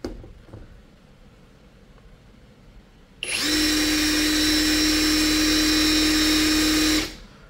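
A cordless brushless impact wrench runs free in power saving mode. After a quiet start there is a loud, steady high whine that holds for about four seconds and then spins down.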